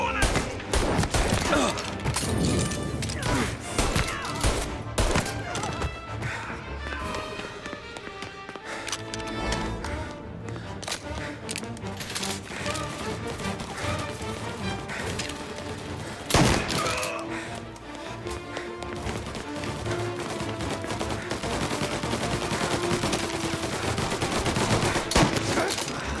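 Gunfire in the Mafia Definitive Edition video game, with dense bursts of shots and heavy volleys that keep up for the whole stretch, loud and close, while voices shout now and then underneath.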